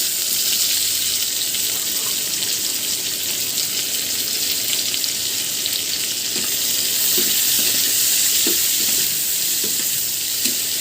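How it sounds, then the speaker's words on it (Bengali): Onion frying in hot oil in a pan, browned for a Bengali aair fish tel jhal, gives a steady, dense sizzle for the whole stretch, with a few faint stirring knocks near the end. "পেঁয়াজটা আমি একেবারে লাল লাল করে ভেজে নেব।"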